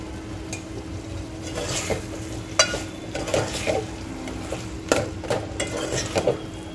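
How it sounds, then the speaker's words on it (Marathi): Drumstick pods being sautéed with salt in a pan: steady sizzling with repeated spoon scrapes and light clinks against the metal, close and continuous, no voices. "आपल्या शेवगाच्या शेंगा टाकून घ्यायचे आहे आणि छान परतून घ्यायच्या"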